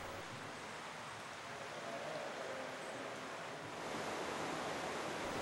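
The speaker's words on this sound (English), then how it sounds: "Here's what it looks like, water flow without the weirs." Water flows steadily through a roughly 400-foot creek culvert with no weirs, a continuous rushing wash that swells slightly louder toward the end.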